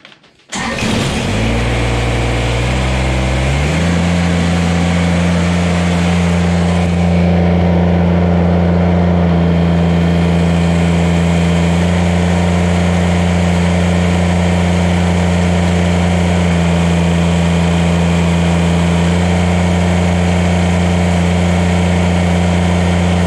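A Kubota BX compact tractor engine, fitted with a hydraulic relief valve and pressure gauge, fires up at the start and settles into a steady, loud, even idle that continues throughout.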